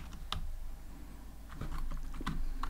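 Python code being typed on a computer keyboard, a few scattered clicking keystrokes at close range, irregular and fairly quiet, with no talking.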